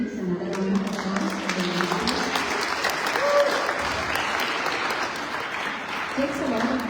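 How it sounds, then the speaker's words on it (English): Audience applause at a youth and family program held by a spiritual mission, a steady round of clapping from a seated crowd with background murmuring and voices running beneath it. "Another hand, please. Another round of applause."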